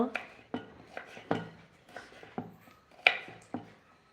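Knife chopping carrots on a cutting board in a home kitchen, a steady series of about nine sharp, close taps at an uneven, unhurried rhythm, fairly quiet and without talk.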